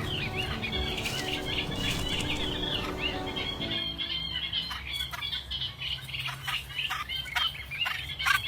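A reed warbler calls at its nest in the reeds. Close, rapid chattering fills the first half, then gives way to scattered chirps and squawks against a softer background.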